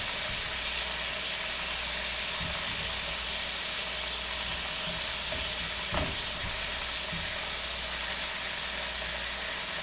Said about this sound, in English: We're going to get the garlic a little bit brown